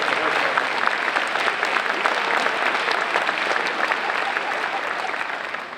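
A community event audience breaks into steady, continuous applause, a dense wash of clapping that holds evenly before easing slightly at the end.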